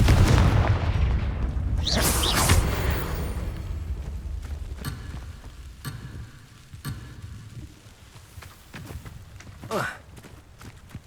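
Confringo fire spell explosions in the video game Hogwarts Legacy: a heavy roaring blast at the start, then several sharp cracks spread across the clip and another burst near the end, loud and close.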